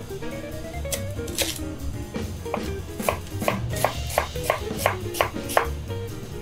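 A knife chops steadily through crisp lotus root on a cutting board, a dozen or so sharp crunchy strikes in a quick, even rhythm, close up.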